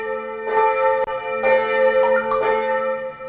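A church bell rings with several slow, resonant strikes, each leaving a long humming decay that overlaps the next; no talking.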